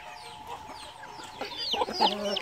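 On a countryside farm, hens cluck and chicks peep near at hand, the calls growing busier and louder toward the end, with no one speaking.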